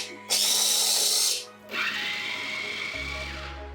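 An electric chopper runs in two loud whirring bursts while mincing meat for bamboo-shoot lumpia filling, with a short pause between them and the motor's pitch dropping toward the end.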